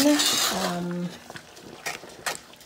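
Strawberry jam being stirred in a pot with an equal amount of sugar, no pectin added: a spoon scrapes and clinks against the pot, louder at first and then fading into a few softer taps.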